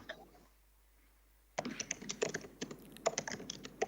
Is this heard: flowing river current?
no